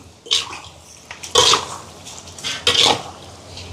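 Chicken stirred in a cooking pot without added water, with a few separate scraping and clanking strokes of a utensil against the metal amid wet sloshing.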